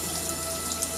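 Excess water drains and trickles from soaked cloths wrapped around mung beans being sprouted at home, a close, steady patter of drips with no talking.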